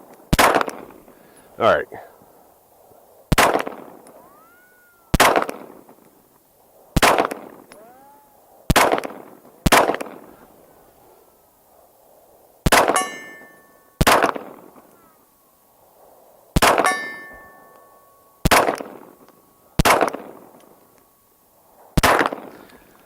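Eleven pistol shots from a Stoeger STR-9F combat pistol, sharp loud cracks spaced one to two seconds apart, a few followed by a ringing ping from a struck steel target; someone speaks briefly.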